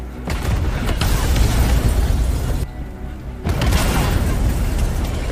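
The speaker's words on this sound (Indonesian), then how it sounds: "Sadar bahwa sebentar lagi akan terjadi ledakan" Loud, sustained rumbling blasts from a film explosion fill the clip, dropping briefly to a quieter lull before a second heavy roar of explosion-like noise returns.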